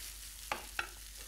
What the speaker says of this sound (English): I'm just going to stir in my crab meat